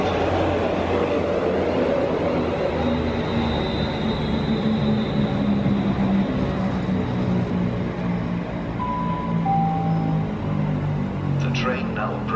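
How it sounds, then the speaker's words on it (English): A passenger train from Heathrow in west London rumbles steadily throughout, with a loud continuous low roar and faint high squeals, heard close up. "This train's come from Heathrow, by the way."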